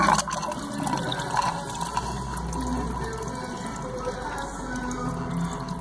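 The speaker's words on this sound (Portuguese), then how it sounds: "vamos tirar o fluido de radiador." Radiator fluid drains from a Triumph Daytona 675 motorcycle in a steady close trickling and splashing of liquid, with a voice faintly audible beneath the flow.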